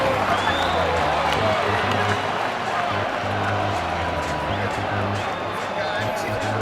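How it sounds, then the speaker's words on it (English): Ballpark crowd in the baseball video game MLB 2K7 cheering and clapping in a steady, dense roar, with a voice talking over it. "They're down by 1, but the fans are still cheering"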